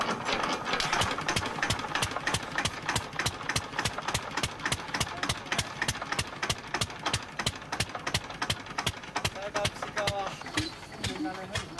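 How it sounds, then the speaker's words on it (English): A diesel-powered compressor runs at a jade mine in the Kunlun mountains, with a fast, steady mechanical pounding that holds a rapid even rhythm. It sounds close and loud, and the clatter continues without a break. "Zhang Jiangguo has invested in a diesel-powered compressor."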